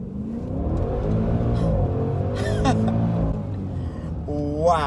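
Maserati Levante GTS SUV with a turbocharged V8 pulling away hard from a light, engine note climbing steadily and staying loud throughout, with a short voice heard over it near the end.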